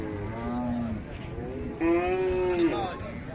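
Cattle moo twice at a livestock market in Dinajpur, long drawn-out lowing calls, the second louder and closer, over a murmuring crowd background.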